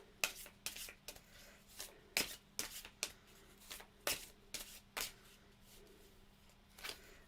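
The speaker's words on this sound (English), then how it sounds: "Let's pull Sharon a card because she's fed up" Oracle cards are shuffled by hand in a quiet room, making a string of soft, irregular papery riffles and slaps spread over several seconds, with no voices.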